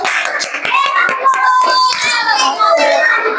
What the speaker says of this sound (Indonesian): Tepuk tangan buat kelompok 6 dulu